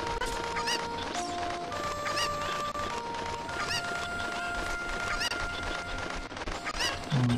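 Cucco chickens cluck repeatedly in Zelda Ocarina of Time, short fowl-like calls scattered over continuous game music throughout.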